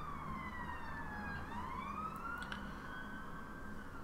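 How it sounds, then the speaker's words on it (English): Emergency vehicle sirens wailing outside on a Friday night, a faint, distant rising and falling tone over steady background rumble, with no voices. "Friday night sirens."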